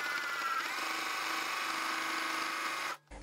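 A bernette b05 Crafter sewing machine stitches a three-point zigzag, giving a steady close whirring hum that runs evenly for about three seconds, then cuts off abruptly.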